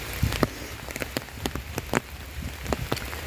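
Steady rain patters on a surface, with sharp, close raindrop hits landing irregularly over a soft continuous wash; no voices.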